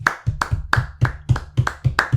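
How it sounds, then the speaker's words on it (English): One person gives a slow sarcastic round of hand claps, about eight sharp, evenly spaced claps up close with no other sound. "Sarcastic round of applause for a Bologna draw."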